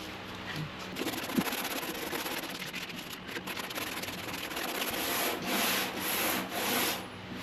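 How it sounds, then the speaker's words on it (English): Sandpaper is rubbed by hand over a body panel of a Mk2 Ford Escort RS2000 under restoration, making a close, continuous scratchy rasp with strokes that swell toward the end. "I'll give that a bit of a sand"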